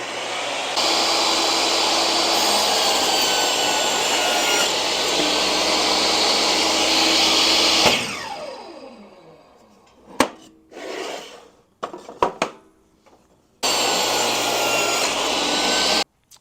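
A table saw makes a 45-degree cut through a wooden workpiece, starting with a loud, steady whine of the blade through the wood for about seven seconds. It spins down, then a few clicks and knocks follow, and the saw starts up again at the end.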